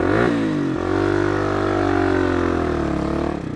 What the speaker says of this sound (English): I gotta rev it. If I'm just idling, it does not like to idle.